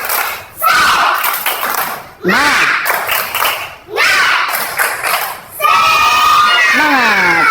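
A primary school class does a group spirit-clapping routine, the children chanting and shouting in unison between bursts of rhythmic claps and thumps, loud and close, with a rising collective cry at the end.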